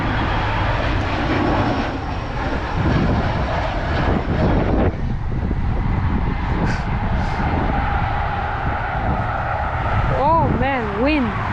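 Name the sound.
United airliner passing at airport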